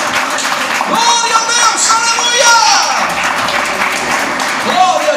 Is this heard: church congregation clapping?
yes